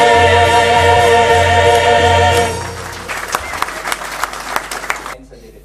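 After music from the University of Yaoundé 1 choir fades out, a loud, dense round of crowd applause fills the hall and then trails away.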